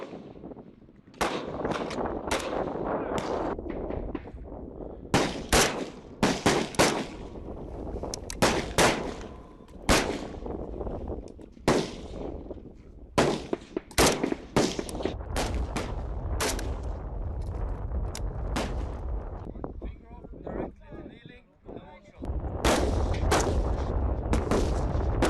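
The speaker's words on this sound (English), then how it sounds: "Prone and kneeling shooting with the one shot each exposure." Rifle gunshots ring out at a British Army training range for Ukrainian recruits, firing prone and kneeling with one shot per target exposure: loud, sharp cracks at irregular intervals, some in quick clusters, with no talking.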